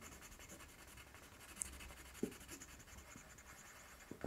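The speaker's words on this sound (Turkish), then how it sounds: "Şöyle biraz daha boyayayım." A pencil shading on paper with graphite makes a soft, continuous scratchy rasp of quick back-and-forth strokes, faint and close, with a few light taps.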